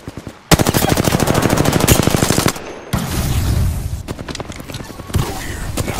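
Video game gunfire in rapid automatic bursts, a loud sustained machine-gun rattle, then a pause and further shorter volleys with booming impacts, close and dominant.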